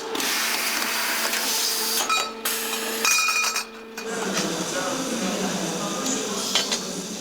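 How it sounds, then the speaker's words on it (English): A noisy factory machine cuts metal tubes for bicycle frames, giving a loud, harsh whine and grinding with ringing metallic tones that shift partway through, set amid steady industrial background noise. "this noisy machine here actually cuts the metal tubes needed to make the bike frame"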